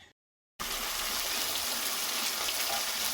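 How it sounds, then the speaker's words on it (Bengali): Katla fish frying in hot oil gives a steady, loud hiss of sizzling that starts abruptly after a brief silence and continues unbroken to the end, with no voices. "মাছ ভাজা হচ্ছে"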